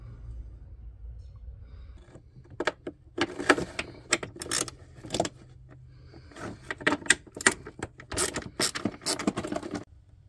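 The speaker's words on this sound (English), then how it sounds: "There's another bolt right here that we need to take out to get the tray out." A wrench works bolts loose from the computer tray of a 2002-2008 Mini Cooper Mk I, with rapid ratcheting clicks and scattered metallic taps, close up and fairly quiet.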